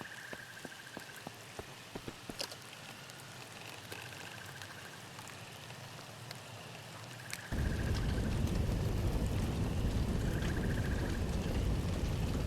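Rain patters in the video game VEIN, light at first and then suddenly much heavier and louder midway, with a few sharp clicks and no talking.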